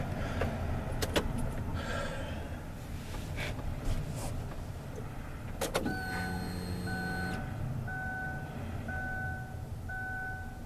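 Fuel pump of a 2003 Kia Spectra priming with a steady electric whir, joined partway through by a clear electronic chime and then evenly spaced repeating beeps.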